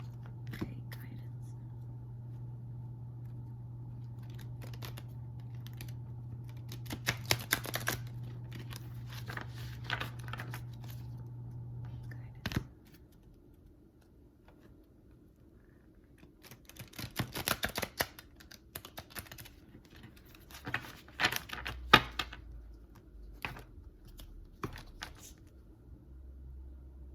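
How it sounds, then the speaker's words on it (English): A thick deck of large oracle cards is shuffled in halves, giving scattered bursts of papery riffling and tapping around soft whispered speech in a quiet room. "I have to shuffle these in halves because they're too thick to hold in my hand."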